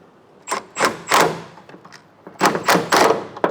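A two-jaw puller works a Pitman arm free on a BMW E39 M5, with several close metallic knocks and thunks in two bursts and a sharp pop near the end.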